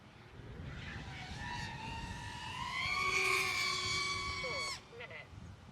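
The motors of a small FPV drone in flight give a loud, rising and falling whine that holds for a few seconds and then cuts off sharply, with faint quieter whine afterward.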